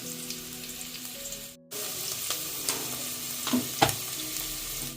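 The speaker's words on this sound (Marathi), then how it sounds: "मस्तपैकी चरचरण्याचा आवाज येलो असा त्याच्यानं समजता की तेल मस्तपैकी गरम झालेला असा" Chopped onion sizzles in hot oil, a continuous crackling fry with scattered stirring clinks and scrapes after a brief pause, close and moderately quiet.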